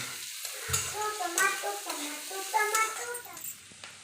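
Chili and spices fry and are stirred in a kadhai, a soft sizzle under a voice talking throughout, with a few scraping stirs.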